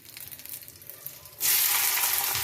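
Chopped onions hit hot refined oil in a pan for chowmein, and after a quieter start a loud, steady sizzle erupts and holds close up.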